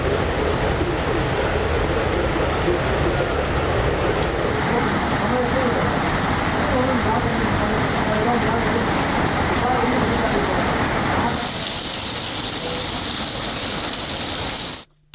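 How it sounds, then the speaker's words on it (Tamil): Heavy rain falls around Tirukkovilur in Tamil Nadu, a dense, steady roaring hiss that holds unbroken for most of the stretch before thinning and cutting off abruptly. "திருக்கோவிலூர் சுற்றுவட்டார பகுதியில் கனமழை பெய்தது"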